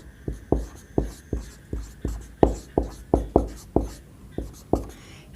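Chalk or marker strokes on a board make about a dozen distinct, evenly spaced taps and scrapes that sound close and fairly loud, with no one speaking over them.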